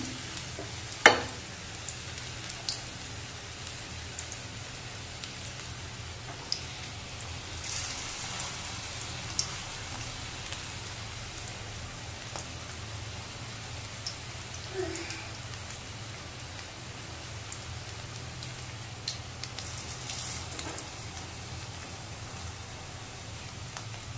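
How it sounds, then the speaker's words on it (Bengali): Bora fritters deep-fry in hot oil, giving a steady, moderate crackling sizzle that runs the whole time, with a few soft clicks and one sharper knock near the start. "এভাবে বড়াগুলো আমি ভেজে নেবো।"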